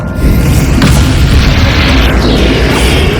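A Bombarda spell explodes in Hogwarts Legacy with a loud, full-bodied boom that holds as a sustained roaring blast through the whole clip, with a brighter crackling burst partway in and no talk over it.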